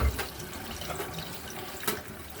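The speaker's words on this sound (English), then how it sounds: "First thing you want to do is wash your strawberries off really good" Strawberries rinsed under a running kitchen tap, a steady close broadband rush of water with small splashy bursts as the fruit is moved, no talk over it.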